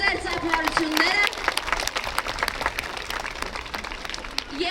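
Audience applause at a DOCANDO federation martial-arts event in Abovyan, Armenia: a dense, steady patter of many hands clapping, strongest at the start and then continuing slightly softer, with a voice talking over it.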